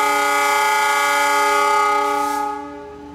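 A freight coal train's horn sounds a long, loud blast at Manggarai Station in Jakarta, holding a steady chord for over two seconds, then cuts off and fades.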